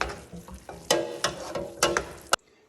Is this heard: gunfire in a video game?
no